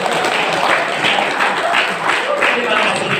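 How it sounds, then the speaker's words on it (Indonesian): Steady applause from an audience at a literacy talk, dense and even clapping sustained for a few seconds without pause. "Tepuk tangan yang ini."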